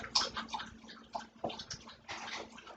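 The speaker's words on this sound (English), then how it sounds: "She's licking up her water." A dog laps up water from a bowl in quick, wet, irregular bursts, close and fairly quiet with no talking.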